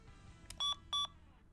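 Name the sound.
electronic beep from a device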